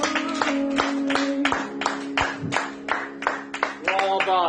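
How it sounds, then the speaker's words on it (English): A seated exercise group gives itself a round of applause, with a regular series of sharp hand claps sounding over background music while a voice talks throughout. "give yourselves a round of applause"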